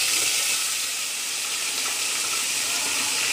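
Chopped onion sizzles in hot oil already holding fried garam masala spices. It gives off a loud, steady broadband hiss with no breaks, close up and alone.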